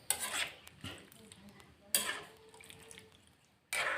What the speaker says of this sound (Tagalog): Haluin natin. para masarap lalo.